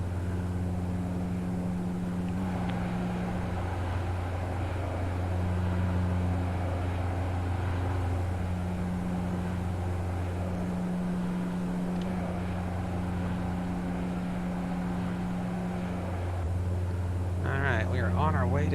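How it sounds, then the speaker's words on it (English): Saab 340 engines in the X-Plane 11 flight simulator hum as a steady, loud, pulsing drone throughout, with a brief voice-like sound near the end. "the radial engines sound really, really nice"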